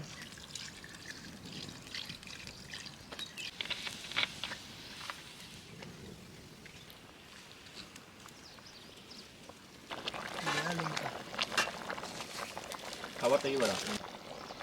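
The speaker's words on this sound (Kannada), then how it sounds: "ಸ್ವಲ್ಪ ನೀರು ಹಾಕ್ಕೊಂಡು ಕ್ಲೀನಾಗಿ ಬೇಯೋ ಥರ ನೀರು ಹಾಕ್ಕೋಣ" Water pours into a pot of chicken biryani cooking outdoors, with a trickling, splashing sound, faint at first and louder near the end, under a person talking.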